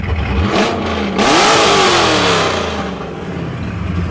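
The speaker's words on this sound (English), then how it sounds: "there's nothing like an LS sound" A Nissan 350Z with an LS V8 swap and a mild Stage 2 cam revs loudly without mufflers, giving two sharp blips that climb and fall before settling into a rumbling idle, with no one talking.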